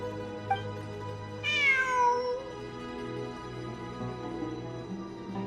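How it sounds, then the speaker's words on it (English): A single drawn-out cat meow in the video game Genshin Impact, clear and fairly close, rising then falling in pitch over a steady synthetic background hum with no talking. "I'm not hearing things. It really is a cat."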